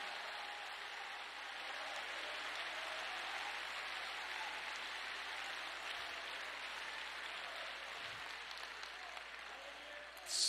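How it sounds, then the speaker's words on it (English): Church congregation clapping hands in sustained, dense applause that stays steady for several seconds, with a faint voice underneath. "Clap your hands again and rejoice in that fact."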